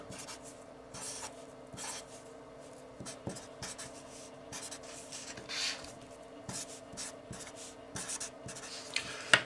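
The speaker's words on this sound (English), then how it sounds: "Now I'm gonna rewrite this again." Pen scratching across paper while working through math problems: short, brisk, scratchy strokes in uneven bursts with brief pauses between them, close up and with no talking.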